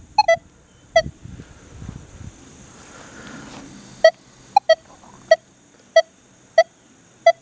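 Manticore metal detector with an M8 coil sounding over a nickel, a series of sharp, evenly spaced electronic beeps, clear and close, with faint rustling and background noise between them.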